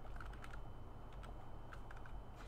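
Computer keyboard keys pressed in quick irregular bursts while someone fumbles with the controls of the game Kingdom, sharp close clicks alone over a steady low hum.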